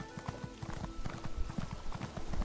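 Horse hooves clip-clop at a steady trot in the video game ESO Morrowind, a close, regular beat of hoof falls running throughout with no voice over it.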